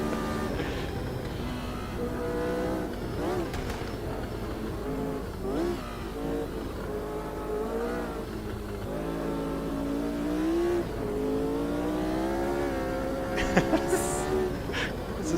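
Race car engine revving hard in the Automobilista 2 racing game, throttle rising and falling in continuous sustained drones with gear-change dips, loud and close throughout, with a few sharp clicks near the end.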